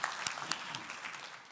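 Faint, scattered claps from a conference audience at Telematics Vilnius 2022, a few sharper hand claps standing out from a soft, thinning patter.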